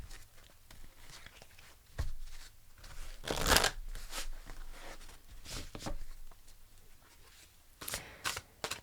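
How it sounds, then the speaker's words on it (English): A deck of large Spirit Animal Oracle cards is shuffled and cards are pulled: soft riffling rustles and slides nearby, with a louder burst of shuffling in the middle and scattered flicks. "Let's pull you a Spirit Animal Oracle card."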